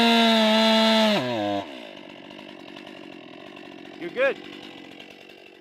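A chainsaw fitted with a 20-inch bar cuts into a tree, roaring loud and steady for about a second before winding down and cutting off, leaving quiet outdoor ambience and a brief spoken remark.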